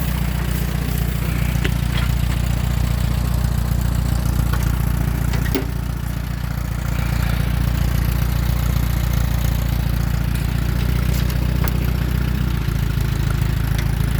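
An old Allis-Chalmers WD tractor engine runs steadily at idle, a low chugging rumble that continues throughout without pause.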